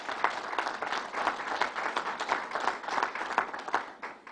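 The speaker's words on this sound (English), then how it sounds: "And let's give them a round of applause." A crowd at an outdoor announcement at Belmont Park gives a round of applause, heard as a moderately distant, uneven patter of clapping that rises and falls across the whole stretch.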